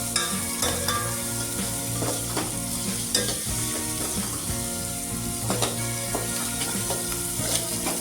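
Curry leaves frying in hot oil give a steady, close sizzle that fills the whole stretch, with scraping stir strokes and clatter breaking through at intervals.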